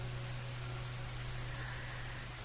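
Steady rain falling in an even, soft wash of patter, continuous and calm with no voices, under a low background hum.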